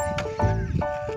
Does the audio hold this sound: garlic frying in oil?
no